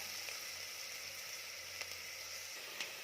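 Onion sautéing in a pan for Kolhapuri mutton gives a steady, soft, hissing sizzle throughout, with occasional faint pops and light stirring.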